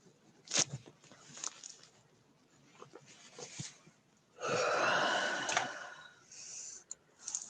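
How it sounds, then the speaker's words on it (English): A person's drawn-out yawn attempt, a breathy rising exhale that swells in the middle and trails off, preceded by quieter breaths and small mouth sounds, close and intimate. "Was that a nearly complete yawn?"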